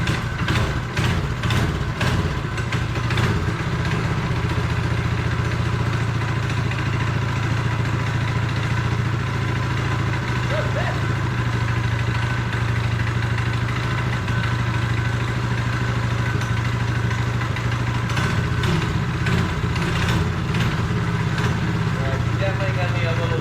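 A 6.6HP 224cc engine swapped into a mini quad fires on a pull and settles into a steady, clattering idle, close up, with a few rapid sputters early and near the end while someone talks over it.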